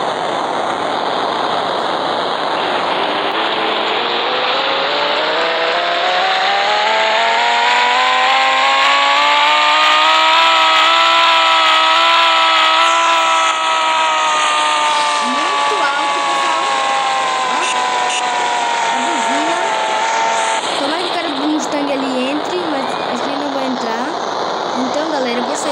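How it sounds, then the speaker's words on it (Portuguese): An Audi R8 engine roars loudly and continuously, its pitch climbing steadily, then sagging and wavering, with a steady hum beneath throughout. "Olha o ronco do motor."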